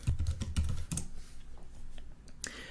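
Rapid clatter of keys on a computer keyboard at a command prompt, a quick burst of close, distinct clicks that slows into a few scattered taps, with no talking.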